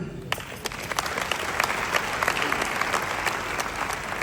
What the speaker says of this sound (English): Let's clap for the conveyor.